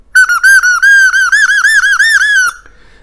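A handheld fox caller blown in a run of sharp, squealing whistle bursts with wavering pitch, loud and close, about two and a half seconds with no talking.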